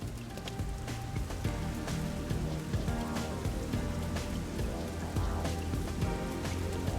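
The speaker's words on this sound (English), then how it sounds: "It rains 24/7." Steady rain in the video game Master Detective Archives: Rain Code pours down without pause, a dense continuous hiss of drops on surfaces that fills the whole stretch, with a soft musical drone underneath and no talking.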